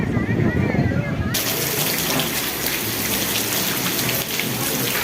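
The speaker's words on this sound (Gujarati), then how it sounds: "વરસાદ ભાઈ બંદર થવાનો નામ નથી" Steady, dense rain hissing down close by, a continuous broadband wash with no pauses; faint background voices early on.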